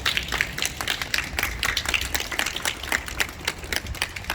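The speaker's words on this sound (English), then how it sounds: "So can we just give Xenia a round of applause?" An audience at a memorial gathering in Pontypridd Library claps together in a round of applause, a dense, continuous patter of many hands that fairly close and steady and holds for several seconds.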